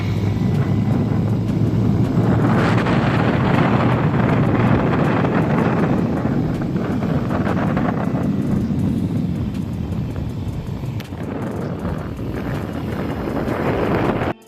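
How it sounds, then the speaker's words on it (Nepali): Cold wind blows steadily across an open hilltop, a loud rushing roar buffeting the microphone for the whole stretch, rising and easing slightly with no voices. "पुरा माथि उकालो चढ्दा बित्तिकै पुरा चिसो चिसो हावा लागिरहेको छ"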